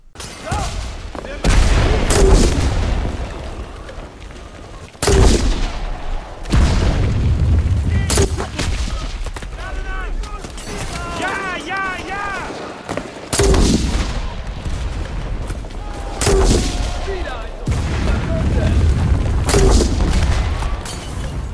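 Rifle gunfire in the World War II shooter game Enlisted, including FG42 paratrooper rifles: loud booming shots and bursts spaced through the passage, with explosion-like thuds and someone talking over parts of it.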